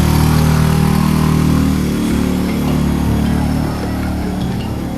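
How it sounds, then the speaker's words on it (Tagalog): A motorcycle used as a ride-hailing taxi in a Taguig neighborhood idles with a steady, close engine drone, holding a continuous low rumble with slight fluctuations throughout. "Parang grab pero motorsiklo."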